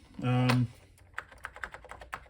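Keys clattering on the keyboard of a Bulgarian Pravetz 8D home computer, a series of separate sharp taps in an uneven rhythm, heard close and fairly faint right after a short tone.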